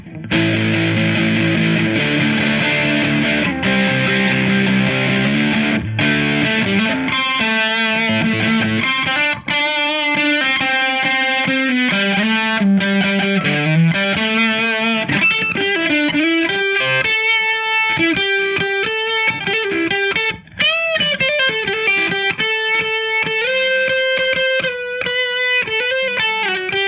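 Electric guitar played through a high-gain overdrive pedal tuned toward cranked Marshall tones, a loud, continuous distorted riff with sustained chords and single-note lines, played alone with no talking.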